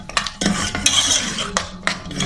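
A metal spoon stirs and scrapes oil and meat in a cooking pot for aloo gosht, giving a series of close, irregular clinks and scrapes against the pot with no talking.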